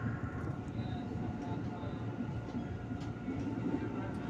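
Interior of a JR 205-series KRL Commuter Line electric train running between Palur and Yogyakarta, a steady low rumble and hum of motors and wheels on rail continuing throughout, moderately loud and close, with faint higher tones drifting above.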